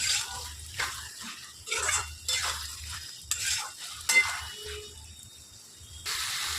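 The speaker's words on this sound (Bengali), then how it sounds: "ভালো করে মিশিয়ে নেব।" Potatoes stirred and fried in a pan with salt, a spatula scraping in repeated strokes over a soft close sizzle, with no talking.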